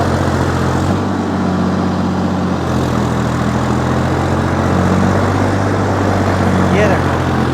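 Three-cylinder Sonalika DI 55 tractor engine running steadily in a farm field, a loud continuous low drone with a constant throb and no pauses.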